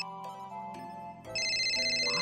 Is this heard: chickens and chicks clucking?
no